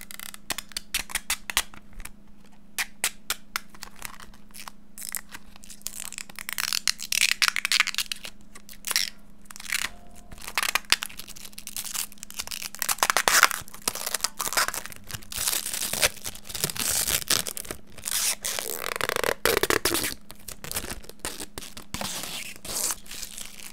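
Protective plastic film peeled off the pickguard of a Prodipe JB80RA Jazz Bass, giving a long series of crackling, crinkling tears that grow denser and louder partway through, close up with no talking.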